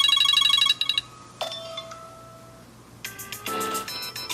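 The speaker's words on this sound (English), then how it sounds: "Ringtone." A smartphone corroded in piranha acid plays its ringtone as a quick electronic melody, pausing briefly and resuming with bright, layered tones; slightly muffled and nearby, with no voices.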